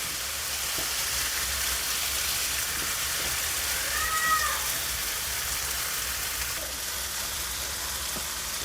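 Paneer tikka sizzles in a pan in a steady, even hiss of frying, like light rain, with a few faint clinks and stirs against the pan.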